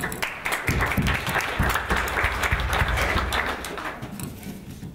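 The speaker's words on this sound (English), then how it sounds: "So just want the room to give Annie and Attell a round of applause" A conference room full of people claps steadily for several seconds, dense and lively, then tapers slightly toward the end.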